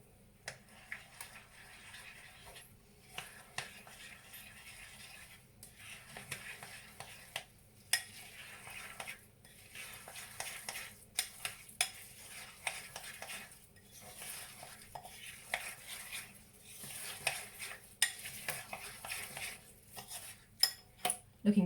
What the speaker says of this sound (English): Stir in the corn flour.